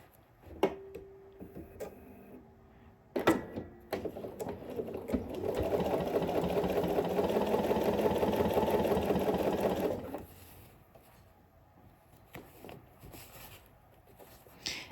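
A sewing machine stitching a sleeve gusset runs in one steady whirring burst of about five seconds, preceded by a few sharp clicks and handling taps, with quiet ticks afterward.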